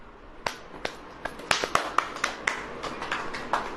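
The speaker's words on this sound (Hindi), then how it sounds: "अब बजाओ ताली" A church congregation claps in scattered, uneven bursts, the individual claps sharp and moderately close, never settling into a steady rhythm.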